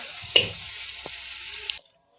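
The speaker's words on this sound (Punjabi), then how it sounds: "ਹਾਂਜੀ ਦਾਲ ਨੂੰ ਤੜਕਾ ਲਗਾ ਲਿਆ" A steady, hissing sizzle comes from a spiced tempering poured into dal, with a sharp clink of a utensil near the start and a softer tap later, before the sound cuts off abruptly.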